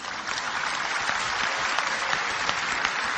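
A lecture audience claps together at a religious talk, producing a dense, steady roar of applause that stays loud and even from start to finish with no voices over it.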